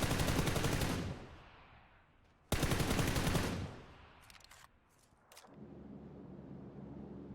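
Counter-Strike gunfire while crouching: two loud bursts of rapid automatic fire, each about a second long, followed by a few brief clicks and a low background hum.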